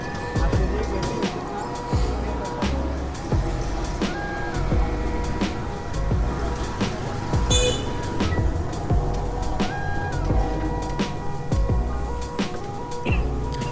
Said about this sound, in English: enjoy this rickshaw ride as we go through the streets of Habiganj in